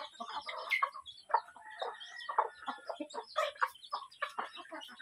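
A flock of chickens clucks busily at feeding time in the morning, with dense overlapping chatter and squawks close by and no talking.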